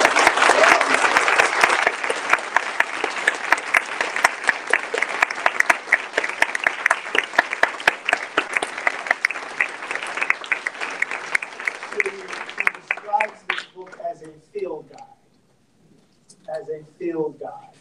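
Sustained applause from an audience honoring a professor at an onstage conversation, loud and dense for about twelve seconds before thinning out, with a voice speaking in the pauses near the end.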